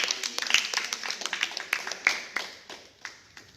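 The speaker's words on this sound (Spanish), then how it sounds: "Damos un fuerte aplauso al Señor por aquello." A church congregation breaks into applause during a sermon, a dense run of overlapping claps that swells early and thins toward the end, fairly close and with no speech over it.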